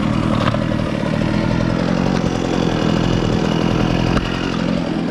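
A small engine runs through its rough break-in period, a loud, steady, buzzing drone like a chainsaw or motorcycle idling, continuous throughout with a brief bump near the end and no talking.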